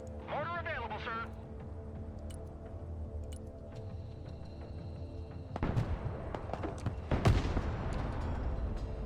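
Mortar fire in the Broken Arrow war game, with several sharp booming blasts and crackling bursts in the later part over a low battle ambience, after a stretch of radio voices and electronic tones.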